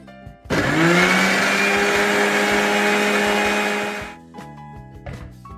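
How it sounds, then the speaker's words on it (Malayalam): A blender starts up suddenly, whirs loudly and steadily for about four seconds mixing fruit juice with ice cubes, then winds down, leaving a few quiet clicks. "ഇനി ഇത് അടച്ചു വെച്ചൊന്ന് മിക്സിയിൽ അടിച്ചെടുക്കാം"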